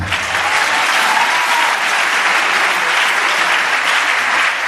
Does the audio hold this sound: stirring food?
no